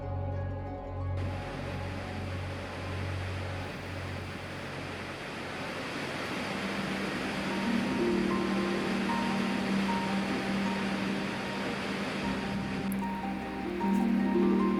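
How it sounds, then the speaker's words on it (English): Skogafoss waterfall in Iceland, a broad continuous roar of cascading water heard steadily throughout, with a tonal hum in the opening seconds and a slight swell near the end. "Skogafoss is one of Iceland's biggest and most beautiful waterfalls."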